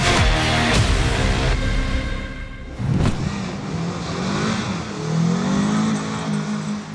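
A Renault Clio RS engine revs hard and climbs through the gears, with a brief lift between shifts before pulling again, loud and close, into a headwind.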